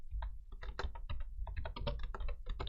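Rapid clicking of a computer keyboard as code is typed, a dense run of close keystrokes with uneven rhythm and a few brief pauses, quiet overall with no talk.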